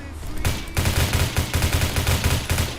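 Rapid bursts of gunfire from the online shooter game Phantom Forces, where L22 and G18 weapons are in use. The shots come as a loud, fast, evenly spaced rattle after a short quieter lead-in.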